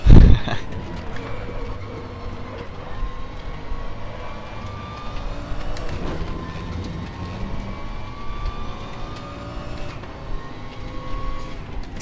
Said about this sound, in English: This sounds like a hypercharged go-kart.